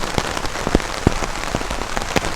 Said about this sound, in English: just come a torrential downpour right here at camp